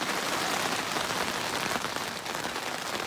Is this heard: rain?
yes